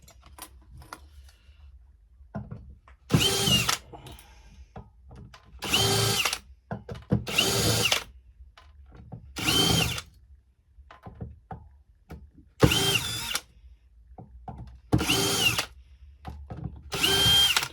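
A power drill whirs in seven short bursts of roughly a second each into a Huawei LTE 4G base station unit, separated by quiet pauses filled with faint handling clatter.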